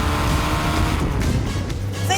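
Fiat Abarth 750GT Zagato "Double Bubble" small engine roaring through its exhaust at high revs, a loud, steady buzzing note with someone talking over it.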